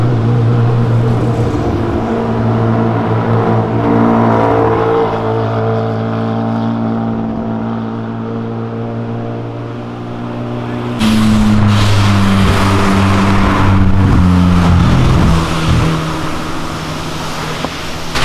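A sports car passing along a city avenue, its loud engine droning steadily before a sharp surge in revs as it goes by close, the roar staying strong toward the end.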